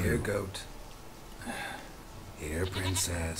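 A goat bleats in quavering cries at the start and again near the end, with talk in between.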